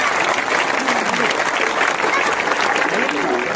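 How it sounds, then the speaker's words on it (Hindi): At an honoring ceremony, an audience breaks into dense, sustained applause, with steady clapping from start to finish and no pause. "आप ये तालियां अपने लिए बजा रहे हैं"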